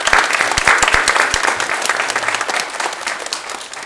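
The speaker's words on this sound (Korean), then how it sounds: "우리 찬양대를 박수 한번" A church congregation claps for its choir at a Sunday service, loud dense applause filling the room, with a few sharp individual claps standing out early before it gradually thins.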